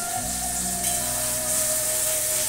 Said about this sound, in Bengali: আদা রসুনটা একটু ভাজা করে নিই যাতে কাঁচা ফ্লেভারটা না আসে।